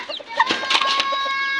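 Young chicks chirping and peeping in rapid, high, overlapping calls, close by, with a few soft clucks and no talking.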